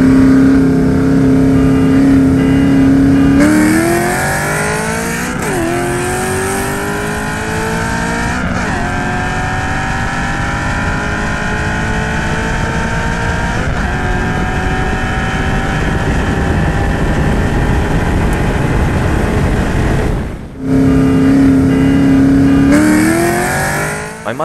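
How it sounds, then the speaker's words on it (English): A powerful Ford Mustang 4.6 engine revs hard in a race, climbing from first to fourth gear, each shift dropping the pitch before it rises again, loud and close with no voices. "This will take my Mustang from the middle of first gear to the top of fourth."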